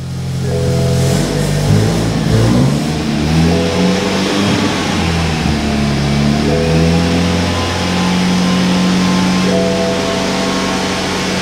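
A BMW 220i M Sport engine with a misfire, revving up and down in uneven surges, its rough tone wavering and stumbling close by, with no voices.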